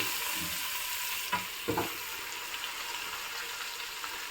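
Chopped amaranth leaves fry in a pan, a soft continuous sizzle and hiss with a couple of brief stirring scrapes partway through, quiet and without speech.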